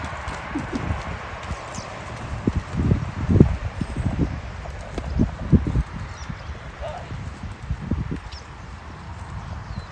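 A horse canters on the good rein, its hooves landing in a steady rhythmic clip-clop on soft ground, moderately close, with faint rustling and wind in the background.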